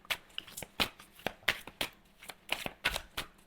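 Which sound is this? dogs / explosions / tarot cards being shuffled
tarot cards being shuffled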